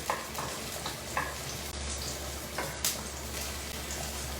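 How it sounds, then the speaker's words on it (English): Cut greens fry in oil in a pan with a steady, even sizzle, punctuated by a few light clicks and stirs of a wooden spoon. "I just want them to start to sizzle and get a little teeny bit golden"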